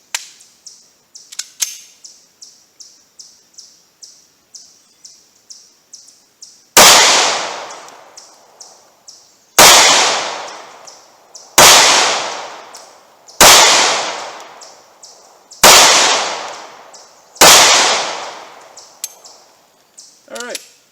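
A short-barrel 9mm handgun fires FMJ rounds outdoors, six loud sharp reports at steady intervals following a run of lighter metallic clicks and pings.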